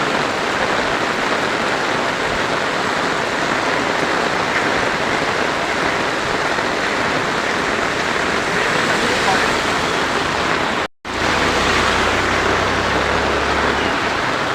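Heavy monsoon downpour in Khed in the Konkan region, near the bus stand, with water flooding the roads, roars as a dense, continuous wash of rain close by, broken only by a momentary dropout near the end.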